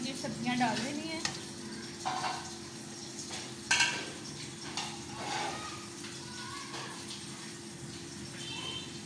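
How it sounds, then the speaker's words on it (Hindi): Vegetables frying in a kadai give a steady sizzle with stirring and scraping, a few louder clatters and splashy bursts, close by, with faint talk underneath. "कढ़ाई में हमने अब ये सब्जियां डाल देनी है"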